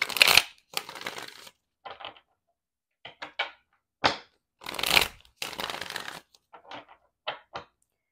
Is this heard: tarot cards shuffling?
yes